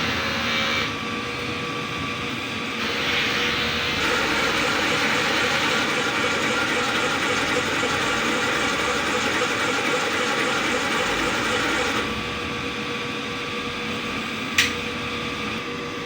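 A DTF printer that has run about 101 meters over five days works through a head clean cycle, giving a steady mechanical whir and hum that rises in level for several seconds and ends with a brief click.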